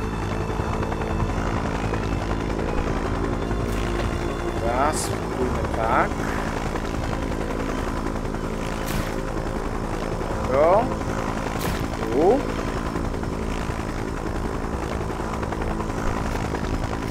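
A helicopter flies in the video game Just Cause 3, its rotor and engine droning loud and steady throughout, with a few brief higher chirps and clicks over the constant thrum.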